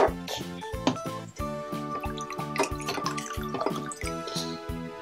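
Water pours and drips into a container during a simple air-pressure experiment for kids, splashing and trickling close by under steady background music and a faint voice.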